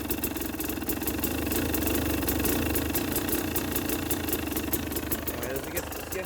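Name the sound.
KTM 300 XC TPI motorcycle engine idling after cold start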